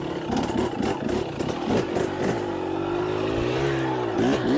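A 2024 TX 300 enduro dirt bike revs hard on a rocky single-track trail, the engine close and loud with choppy bursts of throttle, then a sustained rising whine that dips and climbs again.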